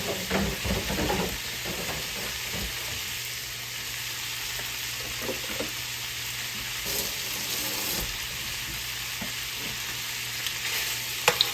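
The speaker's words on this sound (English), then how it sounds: "That's why you want your skillet high, y'all. You don't want to boil them. You want to have some color on those peppers." Sausage and peppers fry in a hot skillet with a dense, steady sizzle and occasional stirring clatter, up close and without talk.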